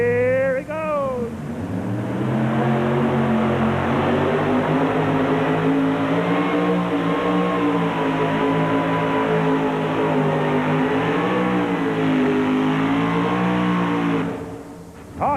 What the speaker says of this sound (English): Here comes Keith Milliken from Morganfield. A 1985 Corvette funny car. And here he goes.